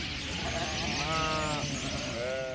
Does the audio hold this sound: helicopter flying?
no